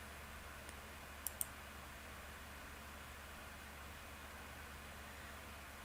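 Two quick mouse clicks land close together on the Start button of a task timer, sharp and faint over a steady hiss of background noise.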